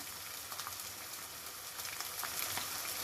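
Green chillies, garlic and ginger fry in oil for potato chilli, giving a soft, continuous hiss that stays even and fairly quiet throughout.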